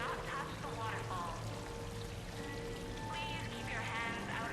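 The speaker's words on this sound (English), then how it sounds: "Please do not touch the waterfall." A waterfall in Mass Effect 3 rushes in a dense, continuous wash of splashing water that holds steady throughout, with game tones and chatter faintly mixed underneath.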